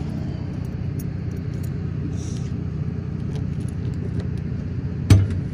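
Car keys jingle briefly at the trunk of a 1965 Ford Mustang convertible, a light metallic rattle over a steady low background rumble, ending in a sharp close clack.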